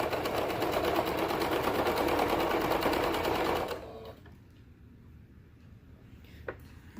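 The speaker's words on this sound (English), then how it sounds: "so that when you're top stitching, it's going through the front and the back" A sewing machine top stitches a mauve and cheetah print toddler hoodie, running in a steady, fast, close whir for about four seconds before stopping, leaving faint room noise and a small click.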